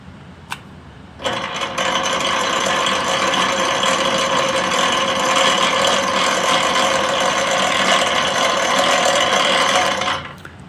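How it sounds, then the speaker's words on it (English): A loud lathe gear drive starts after a soft click and runs steadily with a dense whirring, grinding mechanical noise, then winds down near the end. "this is going to be loud because the gear drive in my lathe is loud"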